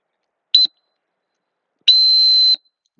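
Dog training whistle blown in a field session with a retriever, a short high blast followed by a longer sustained blast, loud and clear with no talk over it.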